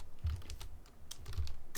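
Quick burst of close keystrokes on a computer keyboard while typing React and Next.js button code, with rapid uneven clicks filling the short moment and no speech.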